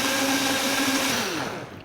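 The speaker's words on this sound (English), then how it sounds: "sometimes the Vitamix, it's so powerful that when it turns this into a slushie, it can get stuck" Vitamix blender whirring watermelon into a slushie, a loud close motor whine with a steady pitched hum that wavers and bends as the contents churn, then trails off toward the end.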